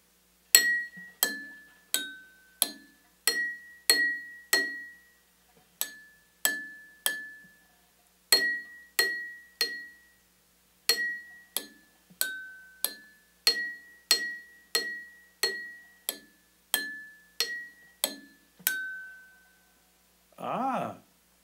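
A spoon taps a row of water-filled drinking glasses, ringing out a slow melody of about thirty clear, bell-like clinks in a steady rhythm with brief pauses between phrases, close and bright, followed by a short soft rustle at the end.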